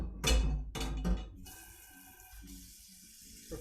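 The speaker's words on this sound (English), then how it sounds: "Get yourself the biggest pot you've got and fill it up." After a couple of dull knocks, a kitchen tap runs steadily into a big pot, a close, even gush of water filling it for a few seconds.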